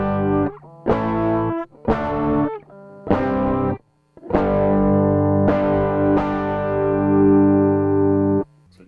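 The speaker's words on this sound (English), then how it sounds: "So you can hear a little bit of distortion." Electric guitar through a rare Canadian distortion pedal, tone and gain turned fully down, level matched: a series of strummed chords with mild grit, several short stabs and then longer sustained ringing chords, loud and close, with no voices.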